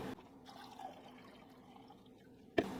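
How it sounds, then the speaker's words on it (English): Liquid drained off thawed frozen tomatoes, a quiet steady trickle close by with faint dripping, ending in a sudden louder knock or splash near the end. "I'm going to drain the remainder of the liquid that's in with these tomatoes."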